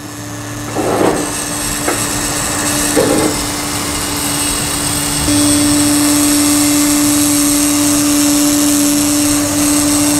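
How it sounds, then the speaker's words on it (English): Compressed air drives sealant powder through a hose into a tire, a loud continuous rushing hiss with a few soft knocks early on and a steady tonal hum that strengthens midway, with no talk. "powder is now being discharged into the tire. And you notice that the uh, powder is passing through this hose here."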